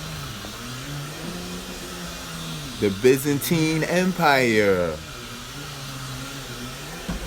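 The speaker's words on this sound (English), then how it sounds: "Excuse me for the vacuum." Vacuum cleaner running steadily as a constant whirring drone in the background, while someone talks over it close by.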